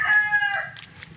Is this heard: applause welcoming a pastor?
no